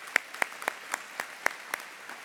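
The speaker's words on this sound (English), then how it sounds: "Let's give them a round of applause if you don't mind." A small audience at the 2019 JA Hall of Achievement gives sparse, scattered applause: about nine distinct claps spaced unevenly, faint and somewhat distant.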